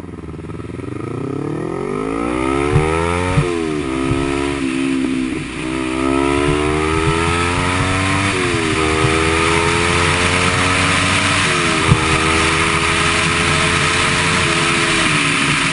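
A Kawasaki Ninja 250R motorcycle engine runs close by, idling with repeated rises and falls in revs, steady and loud throughout.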